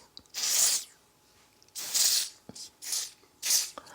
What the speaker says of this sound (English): All right, I just spray some on my face like that.